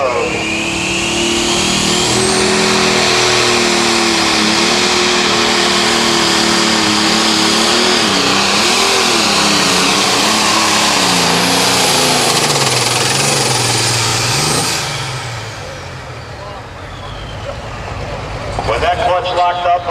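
A 9500 Limited pro stock tractor roaring under full load during a tractor pull at Mound City, Missouri, a loud, wavering, rising engine drone that cuts off abruptly, followed by crowd noise and an announcer talking.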